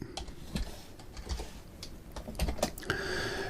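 Close, quiet clatter of a computer keyboard as HTML code is typed, with quick uneven runs of key taps and short pauses between them.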